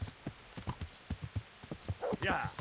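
Horse hooves clip-clop in a steady, even rhythm in a video game, close and clear, with a short whinny-like burst near the end and a voice talking alongside.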